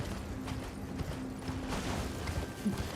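Horse hooves clop in a quick, irregular galloping rhythm in the video game Elden Ring, a faint, close series of soft thuds under a light ambient background, with no talking.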